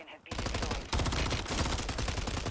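Loud, close automatic gunfire in Warzone, continuous rapid bursts running nearly the whole time after a brief quiet start.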